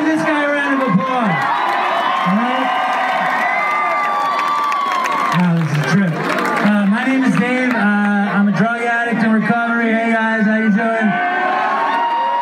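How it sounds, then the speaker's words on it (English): Festival crowd at the Appalachian Healing Festival cheering and whooping, with loud voices, shouts and some clapping blending into a lively, sustained roar. "So let's give this guy a round of applause."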